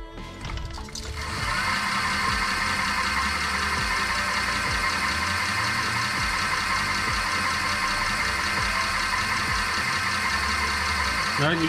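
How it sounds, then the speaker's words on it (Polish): A BearEbike FatBear e-bike's electric hub motor starts up and runs with a steady, high-pitched hum and faint rhythmic ticking, close by and continuous for several seconds. "teraz słuchajcie dźwięku silnika"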